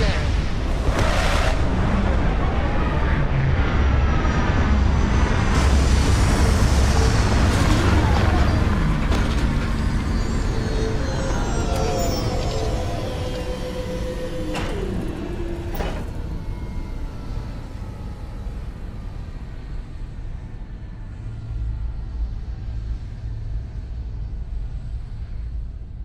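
A spaceship touches down in the video game Starfield: a loud, roaring thrust that swells with sweeping whooshes and metallic tones, then settles into a quieter rumble, with a synthetic voice speaking over it.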